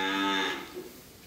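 A single cow, offered for sale at a cattle trader's stock yard, lets out one loud, close moo that fades out after about half a second.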